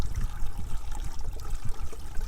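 Hot water heated over a campfire being poured into a solar shower bladder outdoors, a steady low gurgling pour that runs continuously and fairly loud throughout.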